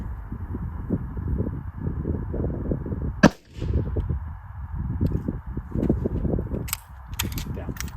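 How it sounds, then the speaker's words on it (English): A single sharp rifle shot rings out from an unsuppressed North Reach Manufacturing rifle that is gassed for suppressor use, the one loud crack standing out over steady outdoor wind and low rumble, with no talking. "This gun is gassed to run with a suppressor, so it's probably not going to cycle super well without it."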